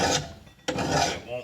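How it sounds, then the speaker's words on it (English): Rasping strokes of a hand file putting an edge on a Scag Turf Tiger mower blade, two long close scrapes separated by a brief pause. "just put an edge back on there with your file"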